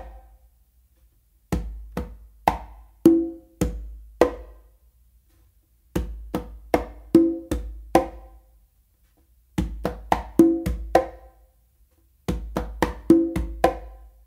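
Cha cha cha variation played by hand on congas, with open tones landing on the four: four repeated phrases of sharp, resonant drum strokes in a steady rhythm, separated by short pauses, close and alone.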